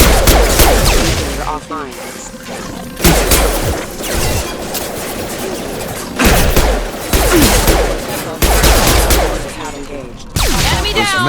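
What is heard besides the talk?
gunfire in the video game Mass Effect 2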